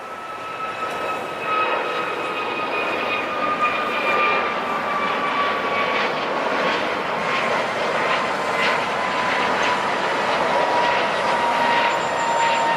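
American Airlines Airbus A321neo XLR jet on flight 238 to JFK at LAX, its engine roar steady and loud throughout with a high whine sliding slowly downward, no talk over it.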